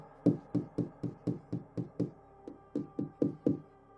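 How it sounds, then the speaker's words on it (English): Light, deliberate tapping on a bedroom window at night: about a dozen soft, evenly spaced knocks in quick succession, a brief pause after the ninth, then three more, close and quiet with no voices. "to the sound of something tapping."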